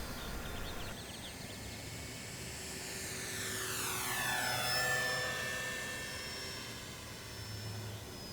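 A DuraFly Supermarine Spitfire Mk2a foam model airplane with an electric 4-cell upgrade flies past, its propeller whine rising and then sweeping down in pitch as it passes overhead and moves away.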